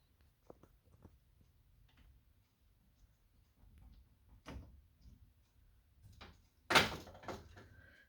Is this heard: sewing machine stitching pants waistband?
no